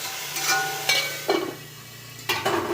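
Brahmi greens frying in a pan, a soft sizzle broken by a few sharp scraping strokes as the leaves are stirred, close and moderately quiet.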